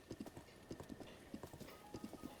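Horse hooves clip-clop along a road near Hateno Village in Zelda: Breath of the Wild, a steady trotting rhythm of quick paired beats that runs on alone at a moderate, even level.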